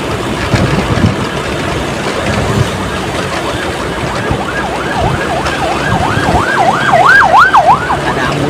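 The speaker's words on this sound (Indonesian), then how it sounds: "Ada ambulan." An ambulance siren wails in a steady up-and-down pattern, starting faint and growing louder and closer, over the low rumble of an idling engine and traffic on the Kalimalang road in Indonesia.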